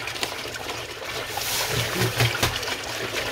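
Water poured into buckets while mixing a cheap sugar syrup for bees, a steady close trickle and splash running through the clip with faint background noise.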